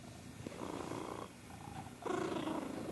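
A cat purrs close up in a steady, rumbling rhythm of in-and-out breaths, soft and continuous with no voices.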